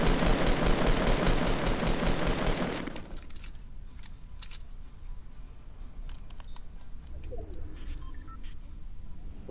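Rapid automatic gunfire in Fortnite rattles loudly for the first few seconds, then gives way to quieter game ambience with scattered faint shots and clicks.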